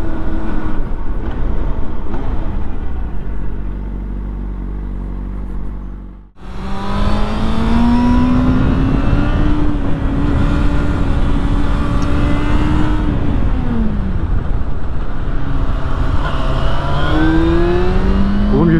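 Racing cars, a Porsche and a Lotus, accelerating hard on a track, a loud engine that cuts out briefly then roars back with long rising gear pulls, close and continuous with no talking.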